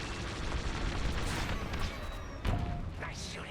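Rapid starfighter cannon fire from the space combat game Star Wars: Squadrons rattles on continuously and loudly, punctuated by a heavier blast near the end, with voice chatter mixed in.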